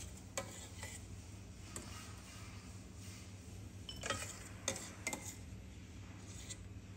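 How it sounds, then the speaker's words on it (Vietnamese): A ladle scoops shrimp heads out of a pot of shrimp broth, giving quiet scattered metallic clinks and taps against the pot over a soft, steady kitchen hum. "Bây giờ mình sẽ vớt hết đầu tôm ra rồi nêm nếm cho vừa ăn."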